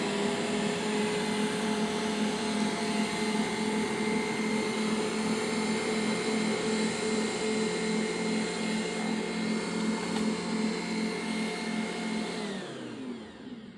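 Electric stand mixer running steadily on its lowest speed while kneading whole grain bread dough, a constant motor whine and hum with churning for about thirteen seconds before winding down at the end, no talking.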